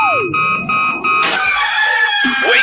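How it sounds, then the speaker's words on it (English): A rooster crows as a radio show sound effect, a rising and falling call standing out clearly against a steady tonal background, followed by another bright sound effect. "I overslept. Damn rooster didn't crow."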